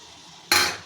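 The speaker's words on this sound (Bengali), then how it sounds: "এবার আমি দিয়ে দেবো অল্প জল।" Water is poured into a pot of jackfruit curry, making one abrupt splash and hiss that rises sharply and then fades within a second.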